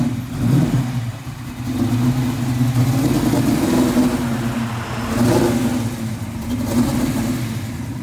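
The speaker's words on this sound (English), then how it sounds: "my buddy Robert Miller pulling Sandy into the display area at the Mustang Owners Museum." A Ford Mustang rolls into a display area at a Mustang owners museum, its engine rumbling low with a lumpy idle and swelling in a few revs as it creeps along close by.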